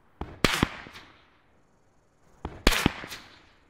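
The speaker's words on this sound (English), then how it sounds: "This is the ICR firing at me." A suppressed ICR rifle firing from long range, heard as two separate bursts of sharp cracks, each a quick cluster of three or four reports followed by a fading rumble, with no talking.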